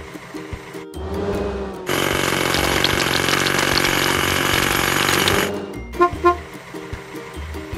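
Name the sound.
hydraulic hammer cracking rocks in a kids' toy car video game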